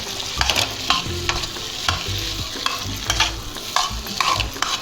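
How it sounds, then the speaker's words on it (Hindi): Taro (arbi) frying in oil in a home kitchen, a continuous sizzle with repeated clattering scrapes and stirring knocks in an uneven rhythm, close and loud, no speech. "यहाँ अरबी जितना है उतना फ्राई करूँगी पहले"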